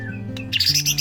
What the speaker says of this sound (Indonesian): Murai batu salah satu jenis burung yang sudah menjadi primadona untuk kelas burung peliharaan.